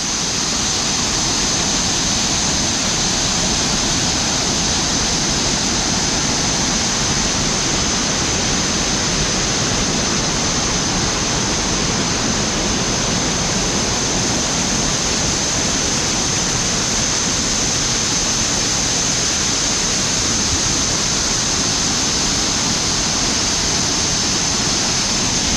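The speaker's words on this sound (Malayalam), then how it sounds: "ഇവിടെ നിന്നാണ് ശരിക്കും മെയിനായിട്ട് ആയതുകൊണ്ട് നല്ല ഫോഴ്സിൽ വരുന്നുണ്ട് വെള്ളം." Urulikundu waterfall near Irikkur in Kannur, rushing with force as a steady, loud, broadband roar of falling water that runs unbroken from start to finish, close by and without talk.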